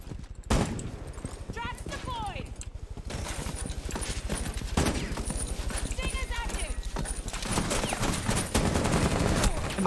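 Gunfire in a video game, rapid volleys of shots mixed with galloping horse hooves and a whinny, under frequent excited talk.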